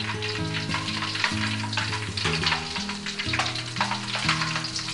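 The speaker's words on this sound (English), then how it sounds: "Now we're ready to do the stir fry." Jumbo shrimp and chicken with mixed vegetables stir-fry in hot oil in a wok, giving a steady, close, loud sizzle with frying crackle and tossing clatter throughout.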